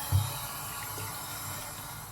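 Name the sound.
water splashed on face at sink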